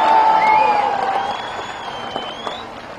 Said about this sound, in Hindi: एक बार जोरदार ताली अपने लिए बजा दो सारे जने।